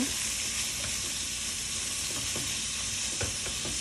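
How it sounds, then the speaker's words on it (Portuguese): Constant loud sizzling of onions frying in a pan for bean stew, with occasional light scrapes of a utensil stirring. "Então aqui é só refogar, sem mistério."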